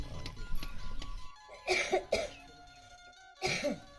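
Someone coughs a few times in short bursts, with quiet pauses in between and faint background noise.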